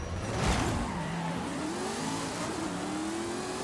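Race cars launching in the video game Forza Horizon 5, engines revving up with rising pitch and a brief tire squeal at the start, a continuous loud mechanical roar throughout.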